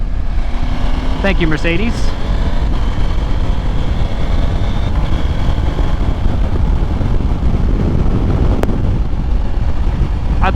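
A Husqvarna Norden 901 motorcycle cruises on a Texas highway, engine drone buried under heavy, constant helmet wind roar; a rider briefly speaks over it and a passing vehicle whines by early on.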